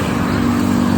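Steady, loud road traffic on the Jakarta–Cikampek toll road in the afternoon, with buses among the vehicles, giving a continuous engine drone and a strong low hum throughout.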